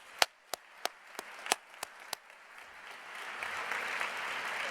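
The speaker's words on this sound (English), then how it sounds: "Please join me in giving her a big round of applause." Hackathon opening-ceremony audience applauding: a few separate loud claps ring out first, then the clapping swells into a steady, dense round of applause from the crowd.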